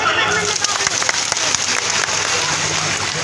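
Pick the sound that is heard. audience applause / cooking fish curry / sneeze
audience applause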